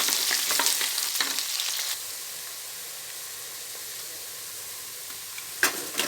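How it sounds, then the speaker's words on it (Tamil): Green chillies and onions fry in a pan until golden, giving a loud broadband sizzle with stirring scrapes for the first two seconds, then a quieter steady frying hiss and one late clank, with no voices. "பச்சை மிளகாய் போட்டுருவேன் வெங்காயம் இது நல்லா வதங்கட்டும் பொன்னிறமாக"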